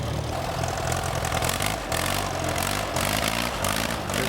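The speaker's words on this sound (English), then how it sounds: "There's an antique tractor pull on Saturdays as collectors pit their machines against the weight sled." An antique tractor engine runs loud and close at a tractor pull, chugging in a steady rough rhythm with a few brief dips, with no voices.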